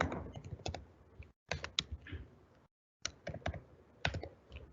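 Rapid, irregular keystrokes clatter on a computer keyboard in bursts, typing column names into a Python data-analysis session, with two short silent breaks between the runs of clicks.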